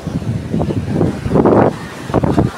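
Gusty wind off the sea at Fort Kochi beach, Kerala, buffets the microphone in uneven surges, loud and rumbling, with no voices.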